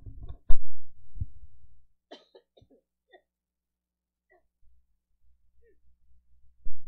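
A single person's cough, heard close with a sharp burst and a second weaker cough, followed by quiet room tone with faint stray sounds and a brief noise at the end.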